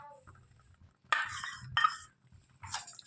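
A jaggery mixture is stirred in a pan over low gas heat, with a few sharp metallic clinks and scrapes of the spoon against the pan, separated by quiet pauses.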